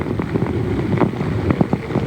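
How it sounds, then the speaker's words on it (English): Strong gusts from Tropical Storm Cristobal roar steadily across the microphone, a loud, buffeting rush of wind with brief surges and thumps throughout, no voices. "occasionally we do get those strong gusts at about 30 to 35 miles an hour"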